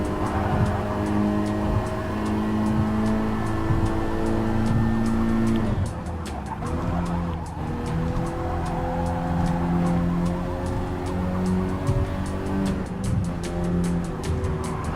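Hatchback race cars competing in Gran Turismo Sport, their engines droning loudly and continuously with rising and falling revs as gears shift and cars run close together.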